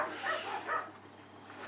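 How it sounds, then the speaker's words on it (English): A couple of muffled dog barks sound in the distance over a low, steady hum. "you excuse the dogs in the background"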